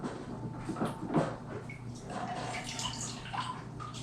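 Water runs at a kitchen sink as hands are rinsed during homebrewing of an extract beer kit, a steady close splashing with a few clunks of items handled nearby, no talking.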